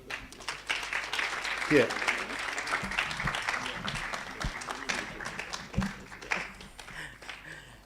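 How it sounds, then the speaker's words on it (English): An audience at a conference on combatting child sexual exploitation claps through the whole stretch, with scattered hand claps and sustained applause under people talking nearby. "let's keep clapping"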